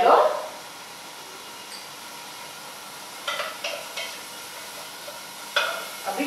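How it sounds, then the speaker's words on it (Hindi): Onion sautéing in a pan for zucchini soup, a soft steady sizzle with a few louder stirring scrapes and bursts, a brief voice at the start. "बेटर है पहले थोड़ा ऑनियन सौते कर लो"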